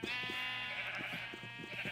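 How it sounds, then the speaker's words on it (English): Sheep in the Minecraft video game bleat in a steady, wavering cry that fills the whole moment, with a soft pattering rhythm underneath. "gonna move all of the sheep"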